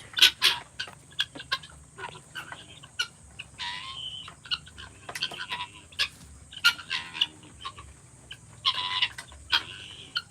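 Chickens roam a messy backyard garden in the Philippines, with scattered short clucks and bird calls, some close and some farther off, over a low steady background hum, no talking.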